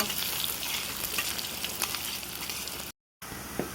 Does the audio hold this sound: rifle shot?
no